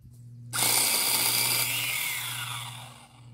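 A power tool trimming tree branches starts abruptly after a moment of quiet, a loud close high-pitched whine that holds steady, then wavers and eases near the end.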